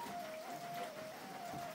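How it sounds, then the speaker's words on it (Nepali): Rain falls without pause over a village livestock shed, a faint, even hiss running steadily throughout with no voices. "पानी चाहिँ लगातार परेको अवस्था छ आज पनि।"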